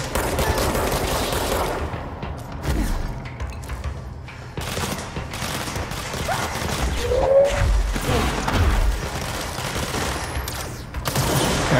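Repeated gunfire in the video game Control comes in rapid bursts and single loud shots, with mechanical clatter and crashing impacts mixed in, dense and close throughout.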